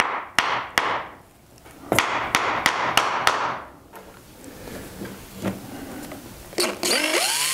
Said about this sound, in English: First I have to pound it in onto the two dowels here